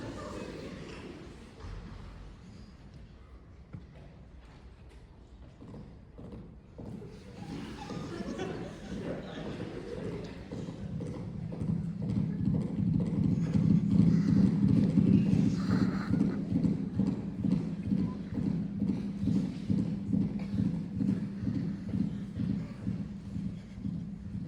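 Rhythmic clip-clop of hooves imitated by hand or mouth, building from soft to a steady louder trot with faint background murmur.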